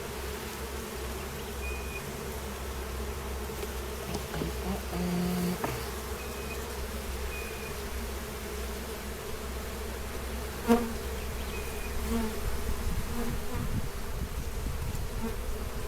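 Bees hum steadily around an open hive being inspected on the Mississippi coast, a continuous low drone with a few brief knocks and clicks of handling, no talk.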